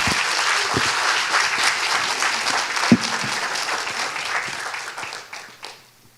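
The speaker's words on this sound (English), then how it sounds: "Please welcoming him with an enthusiastic round of applause" Audience applause greets a guest monk at the opening ceremony of the World Meditation Day Forum, a steady dense clapping from a large indoor crowd that holds for several seconds and then tapers off.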